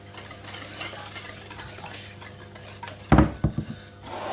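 Cake batter for an ultra-fondant chocolate cake being mixed by hand in a bowl, with a steady scraping stir and a few louder clinks and knocks of the utensil against the bowl near the end.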